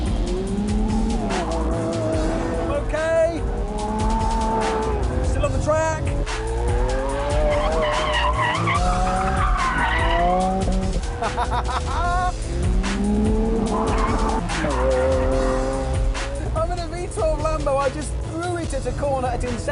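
A Lamborghini Aventador corners hard on a race track, its engine rising and falling through gear changes with loud tire squeal and skidding, someone talking over the roar.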